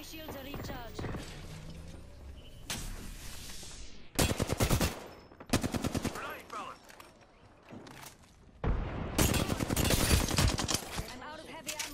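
Heavy-ammo gunfire in a shooter video game: several loud bursts of rapid automatic fire separated by brief pauses, the last burst longest, with other game noises between them.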